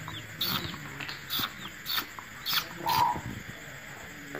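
Five small chicks chirp in short high peeping bursts with a hen nearby, several repeated calls at a moderate, close level over faint background noise.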